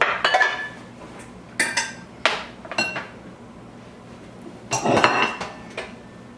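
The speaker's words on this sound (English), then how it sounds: "Okay, let's put the lid on." Clattering knocks and metallic clinks as a lid is set on a pot of chili and a spoon is handled, several sharp close bangs in irregular bursts separated by quiet pauses.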